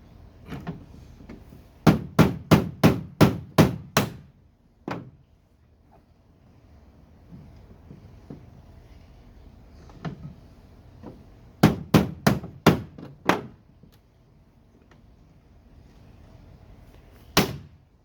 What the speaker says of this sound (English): And the rivet pops.